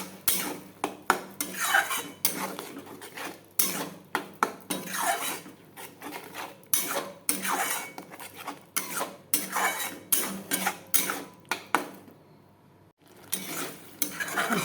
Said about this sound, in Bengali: ভালো করে কষবে মশলাটা